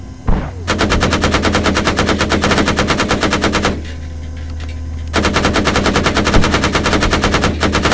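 Rapid machine gun bursts hammer out in dense, evenly spaced rounds, loud and close, breaking off briefly in the middle before a second long burst resumes.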